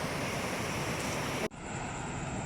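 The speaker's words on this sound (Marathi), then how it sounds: "धरणाचं पाणी सोडलेलं." Water released from a dam rushes into a river in a Konkan village, a loud, continuous roar of flowing water with no voices, broken briefly by an abrupt cut.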